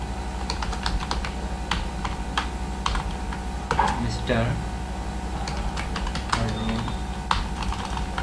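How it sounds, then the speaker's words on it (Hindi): Computer keyboard typing while working on a Node.js CRUD app: a steady run of close, crisp key clicks and taps across the whole span, with brief speech-like sounds around the middle. "या फिर मैं लिखता हूँ मिस्टर रॉबर्ट"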